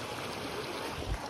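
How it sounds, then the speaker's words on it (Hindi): A small river runs steadily with a soft, close rushing wash while people wade across it near a hidden waterfall in Bhurmuni, Pithoragarh. "नदी पार कर रहे हैं हम यहाँ पे।"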